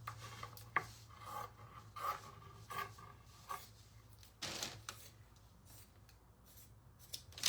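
Scissors cutting material from corner to corner for a raccoon craft project, repeated quiet snipping and rasping strokes in short bursts with pauses, close and faint, no talking.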